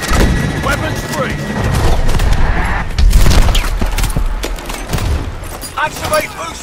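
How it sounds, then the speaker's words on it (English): Gunfire and explosive booms in the video game Call of Duty: Advanced Warfare, rapid bursts and heavy thuds packed densely together, loud and continuous throughout with an announcer's voice and game effects mixed in. "Mitchell, target behind those FCDs and return fire"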